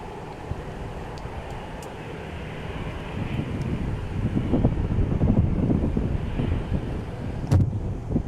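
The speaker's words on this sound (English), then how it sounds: "Wind blew my camera." Wind buffets a camera microphone outdoors at DFW International Airport, a low rumbling roar that swells and gusts for several seconds, with faint background noise.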